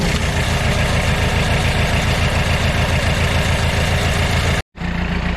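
A Kubota diesel engine on a junkyard-built roller compactor runs steadily at idle, a loud, close, continuous chugging rumble that cuts out for a split second near the end before resuming.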